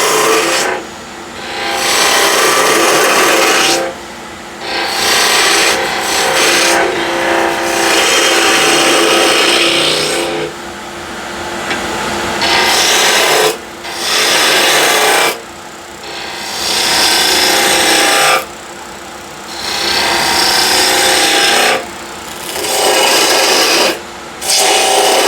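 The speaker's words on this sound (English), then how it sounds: "So a half-inch diameter spindle gouge." A half-inch spindle gouge cuts a spinning wooden salt or pepper shaker blank on a lathe, giving a loud, close rasping scrape in repeated passes broken by short pauses.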